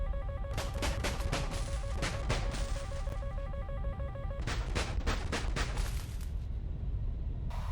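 Rapid bursts of jet cannon fire in War Thunder during a missile-defending dogfight, several loud rattling volleys in a row over a steady engine roar, with no voices.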